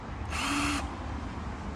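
A power sander whirs to life for about half a second, loud and close, then cuts off, leaving a low background hum.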